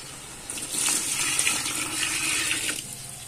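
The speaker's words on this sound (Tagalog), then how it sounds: "Yan, maglalagay na tayo ng tubig guys." Water poured into a cooking pot of papaitan, a steady close splashing gush that runs for a few seconds before tapering off.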